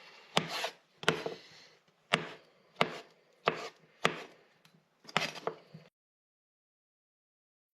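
A knife chops chanterelle mushrooms sharply on a cutting board, seven or eight crisp strokes at an uneven pace, close up, then silence.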